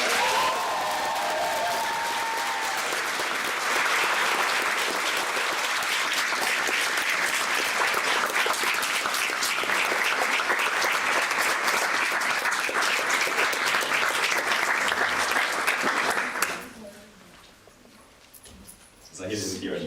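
Sustained applause from a large assembly audience for a newly elected member, steady and full for about sixteen seconds before cutting off abruptly, followed by faint room noise and voices.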